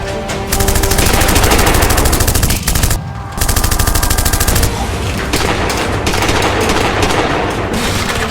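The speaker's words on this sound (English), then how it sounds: "Setting up suppressing fire. Keep firing, team." Machine gun laying down sustained suppressing fire in a battle scene, loud rapid bursts that pause briefly and then resume, dense and continuous over rumbling gunfire.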